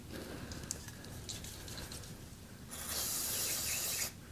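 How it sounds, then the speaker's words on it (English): A can of mass airflow sensor cleaner hisses in a steady, close spray for about a second, aimed into an electrical connection on a 7.3 Power Stroke diesel, after a stretch of faint rubbing and handling noise. "Mass airflow sensor cleaner."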